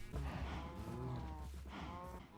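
Cows in Minecraft moo in a loose series of drawn-out, wavering calls, close and clear, with one overlapping the next and no talk over them.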